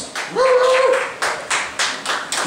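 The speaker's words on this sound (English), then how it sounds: "give her a round of applause" A small audience at a live variety show claps in scattered, uneven bursts, with a brief whistle-like tone sounding just before the clapping starts.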